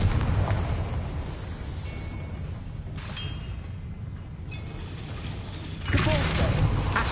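In the Hogwarts Legacy game, a Confringo spell goes off. It lands as a blast that fades into a sustained rumbling wash, with a brighter burst near the end, all set over steady ambient game noise.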